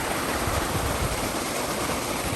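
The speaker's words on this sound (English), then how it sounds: "there's this beautiful waterfall along the way" Waterfall beside a mountain trail in Glacier country, a dense, loud, unbroken roar of falling water that fills every moment, close by and steady, with no voices over it.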